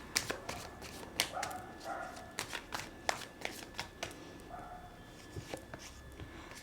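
Tarot cards are shuffled and drawn by hand, a faint series of quick papery flicks and soft slaps in an irregular rhythm, with a few light thumps alongside.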